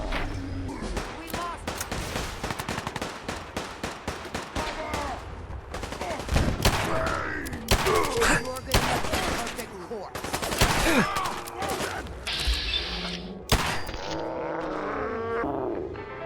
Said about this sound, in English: how many times do I have to shoot you in the head?